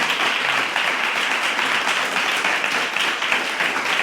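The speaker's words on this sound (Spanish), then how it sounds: "Muy bien, pues ya un aplauso." Audience gathered for a talk on climate breaks into sustained applause, a thick, even patter of many hands clapping at close range, steady and loud for the whole stretch.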